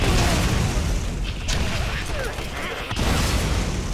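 Gunfire and explosive booms from the Borderlands video game rumble densely and loudly throughout, a continuous barrage with sharper bursts near the start and end, with voices mixed in.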